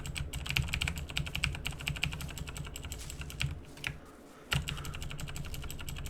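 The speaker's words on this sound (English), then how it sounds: "Sorry for the mechanical keyboard." Steady, rapid clatter of keys on a mechanical computer keyboard during a PC session of Ark: Survival Evolved, close and fairly quiet, running continuously with one brief pause before the typing resumes.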